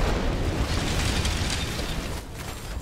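A rocket fired from an aircraft explodes in a combat video game, a loud sustained blast with rumbling debris that fades slightly toward the end, heard on its own without talk.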